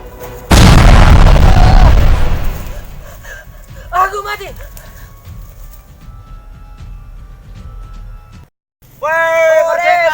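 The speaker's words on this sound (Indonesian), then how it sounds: "Nampaknya mereka menyelebarkan granat." A grenade goes off with one loud, close boom that rolls out and decays over a couple of seconds, followed by a smaller pop, with voices and background noise afterward.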